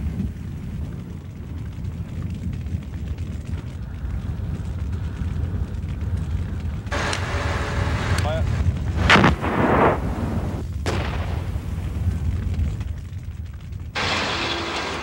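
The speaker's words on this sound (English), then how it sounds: "charges trigger any live ordnance left from the fighting" Explosive charges set off live ordnance left from the Gulf War fighting in the Kuwaiti desert near the 1991 oil fires, heard as several heavy distant blasts over a constant low rumble.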